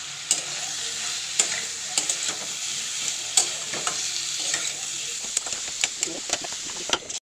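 Cumin, coriander and red chili powder fry in a pan, a steady close sizzle punctuated by frequent sharp spatula scrapes and taps, with some speech-like sound mixed in before it cuts off abruptly.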